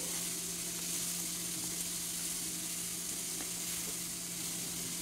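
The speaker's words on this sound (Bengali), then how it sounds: "এবার চাল আর থোড় মোটামুটি একসঙ্গে একটু মিনিট খানেক ভেজে নেব" Rice and chopped banana stem fry together in a hot pan, making a steady, close, continuous sizzle with light stirring scrapes throughout.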